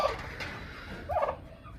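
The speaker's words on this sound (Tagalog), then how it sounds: "Yan na yung mga pabo natin." Turkeys on a farm give two short gobbling calls, the first at the very start and a second warbling one about a second later, moderately close against a quiet rural background.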